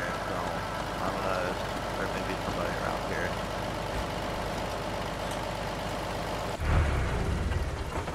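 A Volkswagen car driving in the video game DayZ, its engine a steady droning hum throughout with a brief rumbling bump near the end, while players talk over it.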